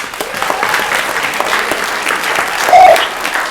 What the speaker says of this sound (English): Let's start by giving a round of applause for our alumni panel.